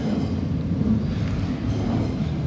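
Trains from London Bridge rumble along the railway overhead, a steady, loud low roar with faint clattering wheels that fills the whole moment without pause.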